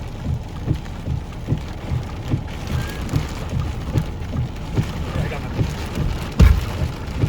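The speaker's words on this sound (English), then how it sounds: "it's raining." Heavy rain pours in a tornado storm, drumming steadily on a nearby surface such as a vehicle roof, with rhythmic gusty pulses and one sharp thump near the end.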